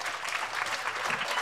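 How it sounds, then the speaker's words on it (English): A crowd at a wrestling feature match claps in a brief, steady round of applause heard from within the room. "Nice round of applause for Coach DeStefano and Tim Monahan"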